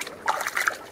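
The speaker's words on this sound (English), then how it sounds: "I will clean this up in running water." Parts of a Resun Penguin aquarium pump are rinsed under running water, a soft, close trickle and splash lasting about a second.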